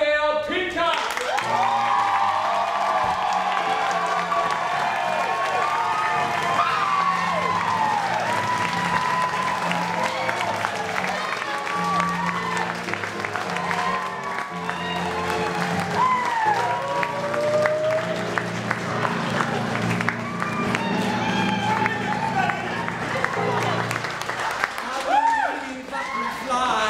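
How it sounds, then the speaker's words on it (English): A large audience at a college summer institute event claps and cheers loudly and continuously, a dense wash of applause with occasional whoops sustained throughout. "Big round of applause for our ASAP student managers."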